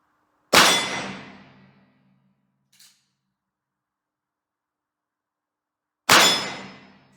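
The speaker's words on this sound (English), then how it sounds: "we got all 6 loaded now, and I got my ears on, so let's see where this thing shoots" Two sharp metallic clangs about five seconds apart as rounds from a Ruger Super Single Six 3-screw old model .22 revolver strike a steel target, each ringing out and decaying, with a faint tick between them.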